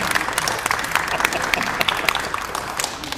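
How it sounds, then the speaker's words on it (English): A studio audience claps for a contestant on an antiques game show, with a short burst of brisk, dense applause that stays loud and close for a few seconds. "Give Mark a round of applause."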